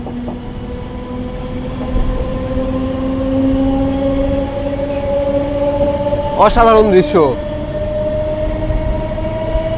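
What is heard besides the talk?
Azimganj-Berhampore Court MEMU passenger train moving slowly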